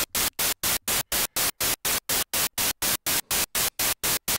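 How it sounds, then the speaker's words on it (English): Modular synthesizer white noise switched on and off by an Amsynths AM8171 quad sequential switch, forming a steady, rapid train of loud, even bursts separated by short silent gaps. "we can hear it gated on and off"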